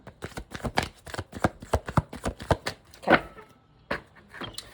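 Rapid riffling of a card deck, a quick run of crisp flutters followed by a few slower snaps and a final bridge-like burst, close up.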